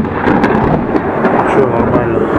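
Heavy thunder rumbles continuously through an outdoor thunderstorm, loud and close, with a steady hiss of rain underneath.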